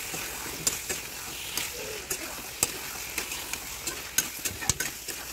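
Spiced meat with garam masala, chilli powder and coriander being stirred and mixed in a pan, with a soft sizzle under repeated clacks of the spoon against the pan, near and moderately loud, with no talking.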